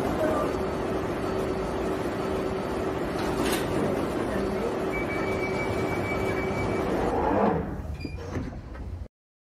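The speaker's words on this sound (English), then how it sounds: "Mind the gap between the train and the platform" Train standing at an underground platform, steady loud rumble and hiss with a brief door-like burst, then the sound drops away sharply near the end.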